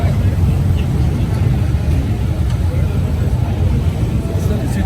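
Vintage MG sports car driving on the Montlhéry circuit, a steady low engine rumble carried under continuous wind and crowd ambience, with voices talking nearby.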